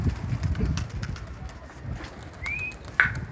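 Pet pigeons coo softly at close range with low throaty murmurs, joined by a brief whistling call and a sharp flutter near the end over quiet outdoor ambience.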